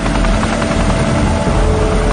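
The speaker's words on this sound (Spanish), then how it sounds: "Se usan helicópteros Chinook para lanzar el agua desde el aire." Chinook helicopters dropping water over the damaged Fukushima nuclear plant make a loud, continuous rotor and engine roar, dense and unbroken, heard close and alone.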